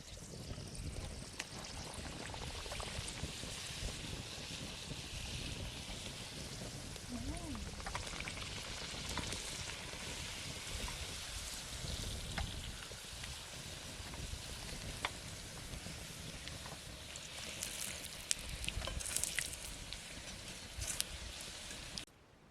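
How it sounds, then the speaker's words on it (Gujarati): Puris made from homegrown wheat frying in hot oil in a village kitchen, a steady loud sizzle and crackle running throughout, with people talking quietly now and then. "તેલ આવી ગયું છે અને આ પૂરી તળવા મળી"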